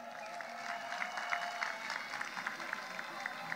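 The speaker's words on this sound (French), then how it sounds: "que je vous demande d'applaudir" A seated audience at a political party gathering applauds the delegates and section secretaries, a faint, steady patter of many hands clapping in a large room, heard without talk.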